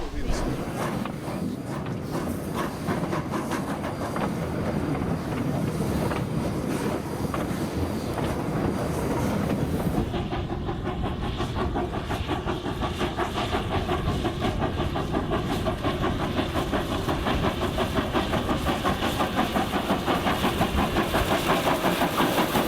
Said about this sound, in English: With a wet track and rusty rail, 795 crawls its way up the grade out of Kingston, with Miles Manahera coaxing the loco